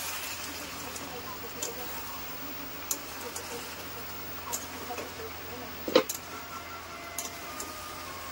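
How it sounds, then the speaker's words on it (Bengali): A spoon stirs goat meat curry (mutton kosha) in a pot, making scattered light scrapes and soft clicks at an irregular pace over a quiet background hum. "রান্নাটা খুলে এবার আমি নেড়ে দেব।"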